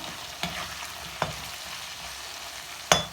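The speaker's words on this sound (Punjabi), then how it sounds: "ਆਲੂਆਂ 'ਚ ਹਲਕਾ ਜਿਹਾ ਨਮਕ ਪਾ ਕੇ ਤੇ ਇਹਨਾਂ ਨੂੰ ਅਸੀਂ ਥੋੜਾ ਜਿਹਾ ਮਿਕਸ ਕਰਕੇ" Salted potato pieces are mixed and cooked in a pan, with a soft steady sizzle broken by three sharp scraping stir strokes, close and clear with no talking.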